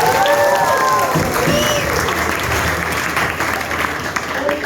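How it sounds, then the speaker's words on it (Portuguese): An audience applauds a speaker at a Christian talk, loud dense clapping from a full room that holds steady for several seconds, with a few voices calling out over it. "uma salva de palmas para a Thaís Urela"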